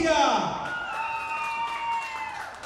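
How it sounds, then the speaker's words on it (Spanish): Applause from an audience at a Mother's Day contest in the Santa Fe mall greets a participant, a broad wash of clapping lasting throughout, mixed with a ringing tone and crowd noise. "El aplauso para la tía."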